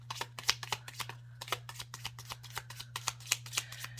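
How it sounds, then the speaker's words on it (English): Tarot cards shuffled and riffled in quick irregular bursts of papery flicks and slaps, close and fairly quiet, with a steady low electrical hum underneath and no talking. "Can we move some cards over here?"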